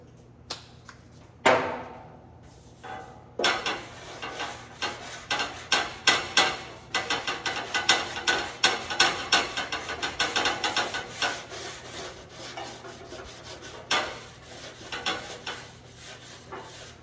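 Sandpaper of 240 grit rubbing back and forth over a car fender in a body shop, a steady run of close, rasping strokes after a few opening knocks.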